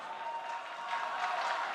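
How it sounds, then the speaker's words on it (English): Large esports arena crowd at the IEM Katowice Major 2019 Counter-Strike event cheering and applauding, a dense wash of distant clapping and shouts that swells slightly toward the end. "There's that crowd."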